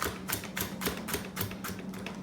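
A knife dices bread for a pimento cheese sandwich on a board, giving a steady run of quick, crisp taps close by, about two or three cuts per second.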